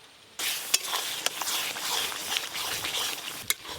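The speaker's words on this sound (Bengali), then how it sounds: "মশলা দেওয়ার পর খুব ভালো করে কষানো হয়ে গেল মশলা, আর তেলও উপর দিয়ে ছেড়ে দিয়েছে।" Spice paste fries and sizzles in oil in a pot on a village clay stove for mutton curry, a steady close hiss with a few sharp stirring scrapes and no talking.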